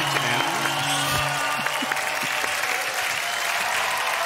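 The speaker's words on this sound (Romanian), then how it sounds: "Doamnelor și domnilor, aplauze pentru" A TV comedy show crowd applauds and cheers as comedian Cezar Oatu is introduced, a loud continuous wall of clapping with a brief musical or tonal sting near the start.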